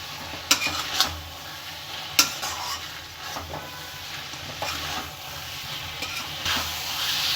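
Chicken masala with sambar powder fries in a pan for street-style chicken chitranna, a steady soft sizzle broken by a few sharp scrapes and clinks of a spoon stirring against the metal, close and with no talking.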